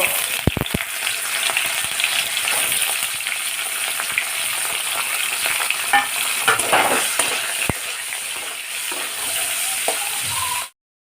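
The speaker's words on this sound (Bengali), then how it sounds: "এবার আমি এই যে পনিরগুলো কেটে রেখেছি এগুলো একটু লাল লাল করে ভেজে নেব" Cubes of paneer fry in a pan, giving a steady, close sizzle with occasional stirring clinks and scrapes, and no voices over it.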